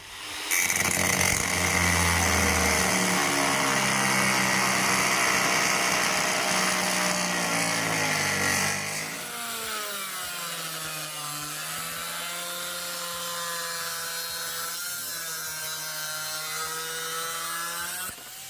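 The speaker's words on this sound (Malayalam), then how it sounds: "ഗ്രൈൻഡിംഗ് മെഷീൻ വെച്ചാണ് അപ്പോൾ ഞാൻ ജസ്റ്റ് ഒന്ന് കാണിച്ചു തരാം ഇങ്ങനെയാണൊന്ന് കട്ട് ചെയ്തെടുക്കേണ്ടത്" A grinding machine cutting through a coconut shell screams loudly for about nine seconds, then settles into a lower, steady whining hum as the cut eases, close up with no talking.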